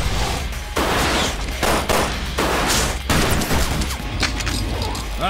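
Rapid bursts of gunfire from the Resident Evil 4 Remake video game, loud and close, with repeated volleys and sharp impacts broken by brief pauses.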